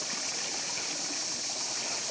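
Water of a mountain stream on Samos island rushes and burbles steadily with a broad, even hiss, close and continuous, with no voices over it.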